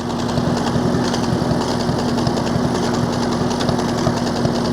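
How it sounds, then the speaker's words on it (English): A 1953 Allis Chalmers WD45 tractor engine runs loud and close with a steady, dense mechanical roar and a constant low hum. The engine is heard alone throughout, with no talking. "Now using the foot clutch, we'll go into fourth gear."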